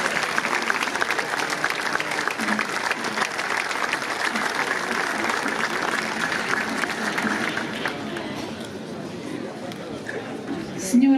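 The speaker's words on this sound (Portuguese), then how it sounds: "Vamos recebê-la com uma calorosa salva de palmas" A crowd at the opening ceremony of the Festas da Madalena in the Azores gives a warm, sustained round of applause, thick even clapping with cheers and murmured voices, thinning slightly near the end.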